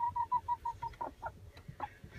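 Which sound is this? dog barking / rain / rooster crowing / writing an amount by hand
rooster crowing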